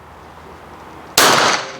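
A single revolver shot fired outdoors on a shooting range. One loud, sharp crack cuts in suddenly after a quiet stretch and decays quickly.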